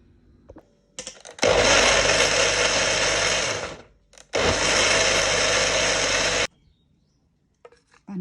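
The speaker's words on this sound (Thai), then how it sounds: "แล้วเราก็จะไปปั่นกับกะทิใส่เกลือนิดนึง" An electric blender whirs loudly as it blends taro with coconut milk and a little salt, running in two long bursts of about three and two seconds, separated by a short pause, with quiet before and after.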